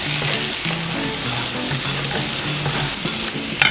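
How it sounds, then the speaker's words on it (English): Garlic sautés in melted butter in a pan, a steady close sizzle with bright crackles and a few sharper pops near the end, while a low intermittent hum sits beneath and nobody speaks. "I'm going to add my garlic to this butter and saute that for just a minute"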